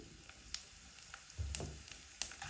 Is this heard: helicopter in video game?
no